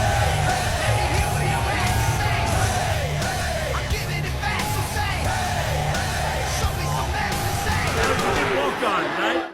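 An arena crowd in Newark roars for Trump and UFC CEO Dana White as they walk in, a continuous loud mix of cheering, yelling and whooping that holds for the full stretch.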